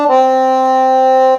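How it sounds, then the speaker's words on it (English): A Roland digital accordion on its clarinet register sounds one sustained reedy note, bright and steady with rich harmonics, held alone for over a second before a quick release. "this is the sound of your clarinet register."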